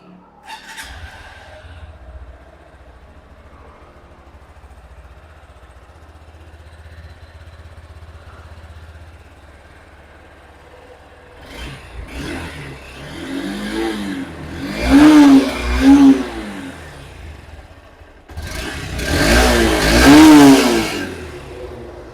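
Honda Hornet 2.0 motorcycle idling quietly, then revved hard in several loud bursts through its exhaust, close by and alone.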